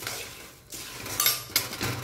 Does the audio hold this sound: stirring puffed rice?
yes